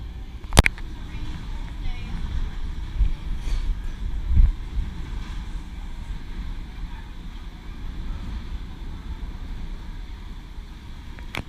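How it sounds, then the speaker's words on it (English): Strong wind on the open deck of the Regal Princess cruise ship, a steady low rumble of buffeting against the microphone with a few sharp thumps, while a person talks over it. "So it's super windy today"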